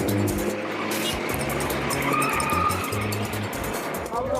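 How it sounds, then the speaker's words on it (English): Taxi pushing through chaotic city traffic in Khartoum, Sudan: a steady, loud wash of engines and road noise close around, with tyre screeches and horn-like blasts breaking through the din. "my taxi driver has to fight his way through Khartoum's chaotic traffic."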